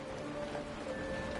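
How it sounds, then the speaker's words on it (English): Soft, steady rainfall patters in the Honkai: Star Rail video game, a quiet, even wash of rain noise with faint tonal game sounds above it. "It's raining!"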